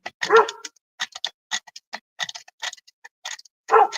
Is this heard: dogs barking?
yes